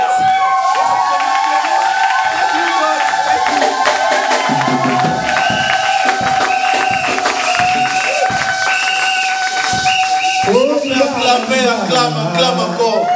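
A church congregation at a marriage vow renewal cheering and acclaiming, a loud sustained crowd roar with shouts and voices, people talking and calling out throughout.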